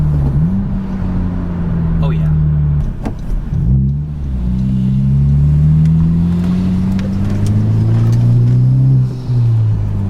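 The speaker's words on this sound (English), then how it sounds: "Let's get a little downshift, boys." A 2021 Honda Civic Type R engine drones up in pitch, dips briefly as it downshifts, then climbs again. A voice speaks briefly over it.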